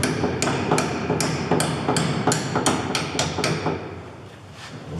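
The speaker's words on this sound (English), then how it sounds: "give the bolt a little tap" A hammer taps repeatedly on a bolt during a drive shaft intermediate bearing change on a Citroen C15, about a dozen sharp metallic strikes in an uneven rhythm, close and clear, slowing toward the end.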